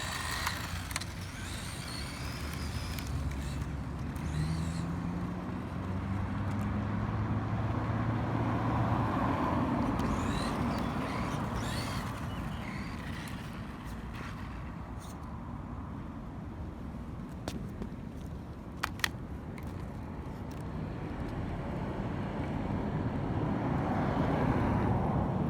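A Losi Mini-B RC car driving: a continuous buzzing motor whine that rises and falls as the car moves, with a few clicks and knocks scattered through, heard at a moderate distance.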